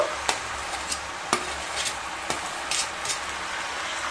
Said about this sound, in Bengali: আলুগুলো দিয়ে আবারও খুব ভালোভাবে মিশিয়ে নেব।